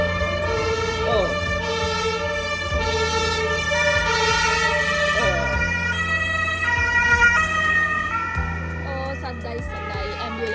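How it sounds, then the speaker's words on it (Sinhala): An ambulance siren wails loudly and without a break, its rising and falling tones sweeping on top of a steady background rumble. "සද්දයි ඇම්බියුලන්ස් එකක්."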